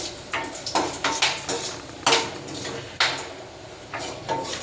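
Ingredients for kesari bath are roasted in a pan, with close metallic scrapes and clinks of a spoon stirring against the pan in an uneven rhythm.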